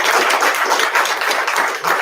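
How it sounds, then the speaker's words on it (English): Dense, steady applause from a crowd at a CME expo, a continuous wash of many hands clapping at close range with no talk over it. "So give them a round of applause."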